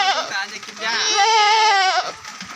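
Goats bleat loudly and close by in a farm pen, one long wavering cry followed by shorter calls, with a person talking faintly around them.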